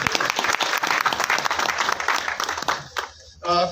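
Loud applause from an audience at a presentation fills the room, dense clapping that fades out near the end as a voice begins to speak.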